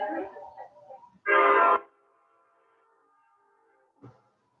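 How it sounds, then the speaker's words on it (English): A train horn sounds once in a single short, loud blast during a lecture about the San Xavier District, after a bit of speech, followed by a faint sustained rumble and a brief later noise. "And then the train's coming."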